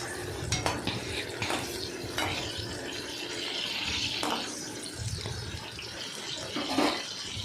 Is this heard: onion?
yes